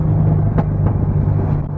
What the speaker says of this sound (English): this is the exhaust closed